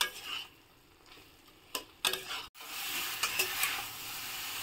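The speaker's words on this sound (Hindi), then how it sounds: "अब इसमें हम ये सहजन को डाल दे रहे हैं। अब ये सभी को हम 5 मिनट और भूंज लेंगे।" Drumsticks (sahjan) are stirred into a tomato masala in a pan, soft sizzling broken by spatula scrapes and clinks against the pan, quiet at first and then a steady close fry.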